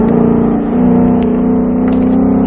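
A Mustang Shelby GT on the Speed Vegas track pulling hard under full throttle, a loud, close, steady engine drone whose pitch climbs slightly as it accelerates, with no speech.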